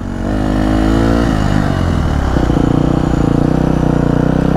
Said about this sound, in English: he's not too fond of the loud exhaust right yet